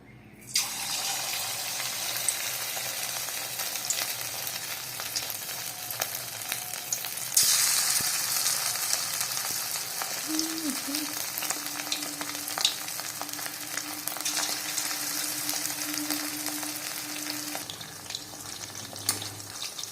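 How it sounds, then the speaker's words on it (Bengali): Chicken pieces frying in hot oil, a steady loud sizzle with a sharp burst as more pieces drop in, continuing with light stirring clatter. "আমি এবার এতে এক এক করে চিকেনগুলো ছেড়ে ভেজে নেব"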